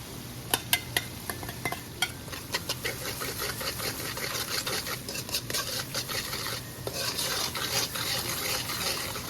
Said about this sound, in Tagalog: Halu-haluin ko na sila lahat.